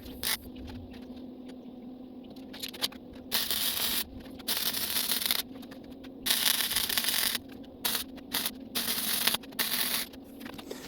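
Flux core welding a sleeve onto a part for a drift car Jetta build, heard as irregular bursts of harsh crackling buzz separated by short pauses.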